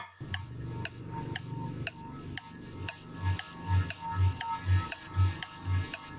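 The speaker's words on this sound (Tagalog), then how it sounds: "Ang tiktak ng orasan ay mayroon ding tunog." A clock ticks in a steady, even rhythm, about two ticks per second, with soft low thumps joining the later ticks.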